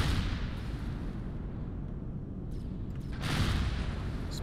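Gunfire strikes against a player's shield in a first-person shooter, heard as a dense, continuous barrage of rumbling impacts with a louder swell of bursts near the end, no talking.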